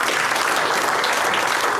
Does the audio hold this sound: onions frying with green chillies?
no